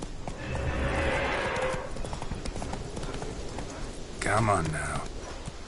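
In The Witcher 3 video game, the horse Roach trots with a steady clip-clop of hooves and gives a whinny, while someone speaks briefly over the hoofbeats.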